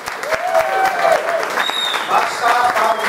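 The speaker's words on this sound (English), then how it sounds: "I'd like to keep the applause going for our sound engineer" An audience at a Govanhill Baths performance applauds, a dense, steady patter of many hands clapping up close, with scattered cheers and voices mixed in.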